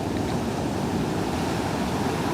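Ocean waves on a steady swell at Ponte Vedra beach, a continuous wash of surf with a soft wind-like hiss, heard alone at an even level.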